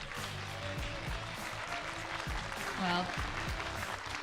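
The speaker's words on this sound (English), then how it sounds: "a big round of applause" An audience at a racing awards ceremony claps in a steady patter, with someone talking over the applause.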